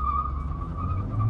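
Honda City cars, a hybrid with e-CVT and a petrol manual, launch side by side in a drag race, producing a steady, loud engine drone that holds up close throughout.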